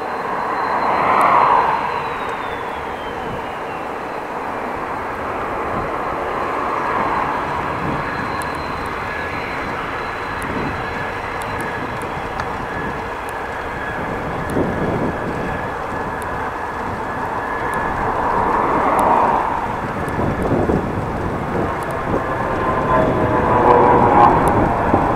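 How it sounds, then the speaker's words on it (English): An airplane climbs into the sky near Eelde airport, its engine a steady distant roar that swells and fades over about twenty-five seconds, with wind and outdoor noise around it. "I definitely can see a plane going into the sky just behind me. You didn't see it, probably only hearing it"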